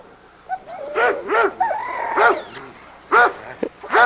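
A roughly 38-pound dog in a dog yard gives several sharp barks in short bursts, close and loud, with a rooster-like harmonic cry mixed in between.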